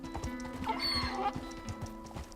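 A donkey running in Red Dead Redemption 2, hooves thudding in a quick, regular clip-clop rhythm with a brief brighter whinny-like sound in the middle, fairly close.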